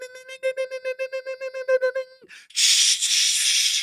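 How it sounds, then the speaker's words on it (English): Morse code beeps: a steady tone keyed into about a dozen short and long pulses in quick rhythm, loud and close, then cut off by a burst of broad harsh noise. "That was the Morse code message of the night."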